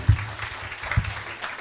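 A church congregation claps during a dedication service for the church's 27th anniversary, a short, fairly soft burst of applause with no voices over it.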